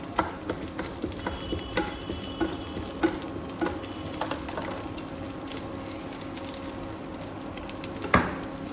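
Mustard seeds and a dried red chili crackle in a small amount of hot oil, a steady close sizzle dotted with light pops and a few utensil taps, ending in a sharper clatter.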